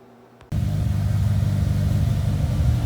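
A Mitsubishi Evo VIII engine running on pump gas after fuel-line cleaning kicks in abruptly after a quiet moment, then holds a loud, steady, rumbling idle close by.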